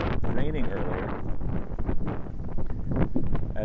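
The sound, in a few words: wind blowing on a chilly morning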